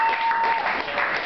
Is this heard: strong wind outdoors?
no